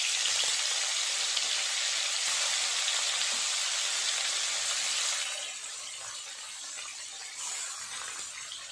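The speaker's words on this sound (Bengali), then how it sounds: "তেলটা গরম হয়ে গেছে, এক এক করে মাছগুলো দিয়ে ভাজা করে নেব।" Hilsa fish frying in hot oil in a wok, a bright continuous sizzle that drops slightly in level midway and carries on steadily, with no talking.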